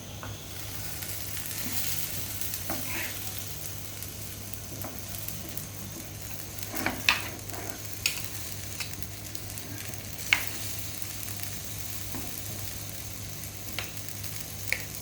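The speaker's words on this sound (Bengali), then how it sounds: "আবার আমি কিছুক্ষণ নাড়িয়ে দিই।" Chicken frying in a clay handi pot gives a steady, moderately loud sizzle, broken by several sharp scrapes and clinks of stirring, with no voices.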